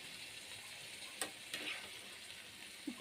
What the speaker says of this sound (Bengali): ফুলকপি ভাজি বসায় ফেলেছি